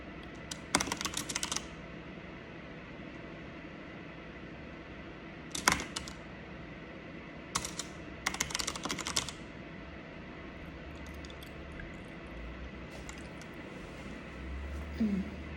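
Computer keyboard typing in several short bursts of rapid clicks separated by pauses, fairly close and clear over a quiet room hum.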